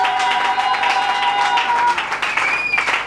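A church congregation in Kinshasa applauds together, a steady, dense wash of clapping that carries on throughout, with a few voices and some sustained tones mixed in.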